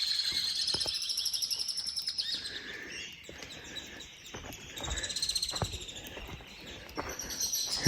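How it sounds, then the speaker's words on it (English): Many birds chirp and call inside Shanidar Cave, a rocky limestone cave with a high opening between two rocks, their tweets layered densely and steadily throughout, with a few faint knocks or footsteps underneath. "Obviously lots of birds."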